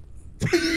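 A single short, sharp cough from a man in a co-op session of the game Chained Together, close and fairly loud after a moment of near silence.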